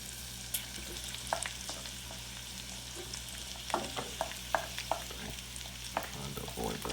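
Onion frying in a pan on the stovetop for baked beans, a steady sizzle with occasional crackles and scraping stirs, alone without talk.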